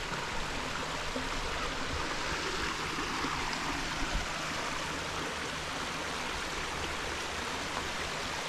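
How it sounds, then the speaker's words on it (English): A steady rush of flowing creek water, constant and close, with no other sounds. "Just hanging out by this creek."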